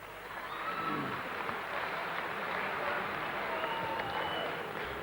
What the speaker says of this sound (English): come on, give him a warm applause